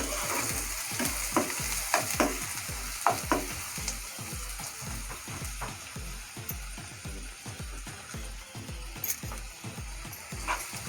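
Two finely chopped onions are sautéed in a pan with a steady, evenly paced run of spatula strokes scraping the metal over a constant close sizzle.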